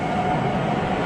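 Train arriving from Dover, a steady loud rumble and roar of rolling railway carriages, heard close and unbroken throughout with no voices, an older recording.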